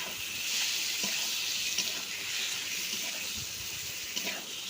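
Diced snakehead fish, marinated in salt and turmeric, sizzles steadily in hot oil and spices in a pan. The hiss stays loud and even throughout, with a few faint clinks and stirs beneath it.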